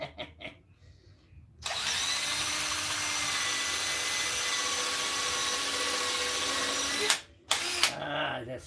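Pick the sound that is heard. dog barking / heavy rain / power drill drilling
power drill drilling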